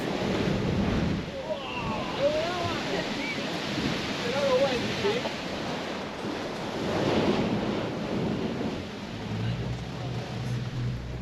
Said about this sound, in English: a natural blowhole where waves surged into an underwater cave